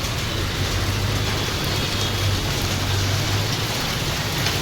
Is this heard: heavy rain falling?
yes